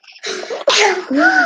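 A sneeze bursts out abruptly and loudly, indoors during a pottery-making session, with a brief breathy intake before it and a voiced tail trailing after, standing alone with no talk over it.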